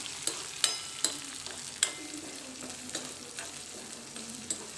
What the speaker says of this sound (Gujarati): ગ્રીન ચીલીને પણ આપણે થોડી વાર આવી રીતે રોસ્ટ કરી લઈશું